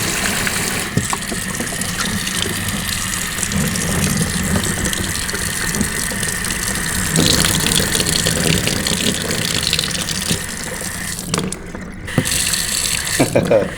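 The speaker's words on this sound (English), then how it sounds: "Now we have a running sink in the kitchen area where they can brush their teeth and stuff" Water runs steadily from a newly installed kitchen sink tap in an off-grid house, a continuous close splashing gush that stays even for over ten seconds, with a brief break near the end.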